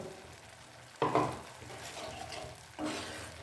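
Water poured into a hot pan of dahi kali mirch paneer with a yogurt and black pepper gravy in oil, bursting into loud sizzling twice with steady frying crackle between, no talking.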